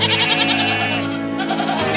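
A goat in the video game Love Live! School Idol Festival All Stars lets out one long, wavering bleat that fills the moment, loud and close, with no talk over it.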